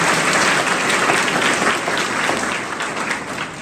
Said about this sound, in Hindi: अपने लिए तो तालियां बजा दो जोरदार